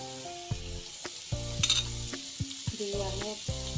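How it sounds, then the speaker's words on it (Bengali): Chopped onion, carrot and tomato frying in a pan with a steady close sizzle, broken by repeated scraping stirs and a brief bright clatter midway. "আমি সবজিটাকে রান্না করে নেব, একটু ভেজে রান্না করে নেব।"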